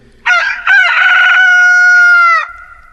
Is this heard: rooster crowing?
yes